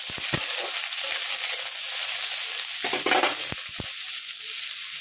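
Vegetable stems sizzle in hot oil with a steady close frying hiss. A spoon stirs them, giving a few sharp scrapes and knocks against the pan.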